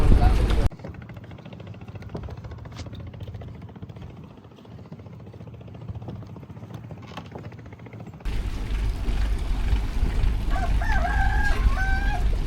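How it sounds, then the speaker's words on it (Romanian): A rooster crows on a boat at sea, its call rising near the end over a loud, steady engine or wind rumble, after an earlier stretch of low background noise. "Cocoș pe barcă."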